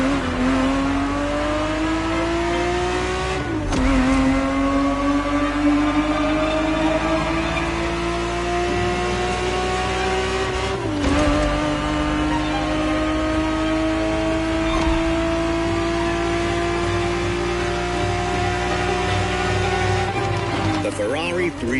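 Ferrari 365 GTB4, a 1970s V12 grand tourer, revving hard in a racing video game, its engine note climbing steadily through long gear pulls with brief drops at each shift, loud and continuous throughout.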